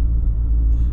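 Idling Audi A4 engine with a P0171 lean fault and a replaced MAF sensor, giving a steady low rumble that stays close and constant for about a second, with no talk.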